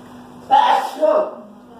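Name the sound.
sneeze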